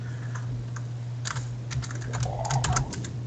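Fingers tap on a computer keyboard in two short bursts of quick clicks, the second busier, close by over a steady low electrical hum, during a tabletop role-playing game session.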